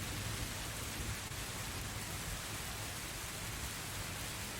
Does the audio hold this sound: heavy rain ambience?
yes